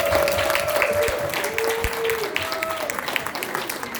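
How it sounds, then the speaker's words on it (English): Studio audience applauding steadily as a new host is welcomed onto a comedy talk-show skit stage, a dense, even clatter running the full length with a thin tone drifting over it. "please have you give a round of applause to our new host, Mr. John Cornelius."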